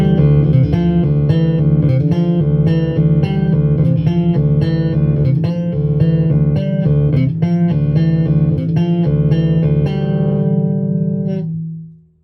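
A deep, heavy electric bass, an Ibanez GSR 200 with bass boosted, plays a steady run of plucked notes with a boomy low end, then rings out and fades at the finish.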